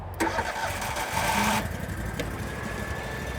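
A Vermeer RTX250 walk-behind trencher engine cranks and catches, roaring up loudly for about a second and a half before settling into a steady, close idle.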